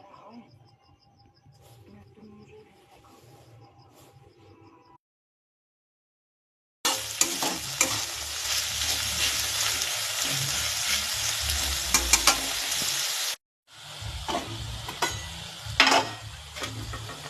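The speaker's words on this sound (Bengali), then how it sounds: "এই পেঁয়াজগুলো লাল লাল করে ভাজা হয়ে গেছে হালকা।" Onions frying in a pan, a dense crackling sizzle with stirring that starts after a quiet stretch, briefly cuts out, then resumes loud and close; faint background sounds precede it.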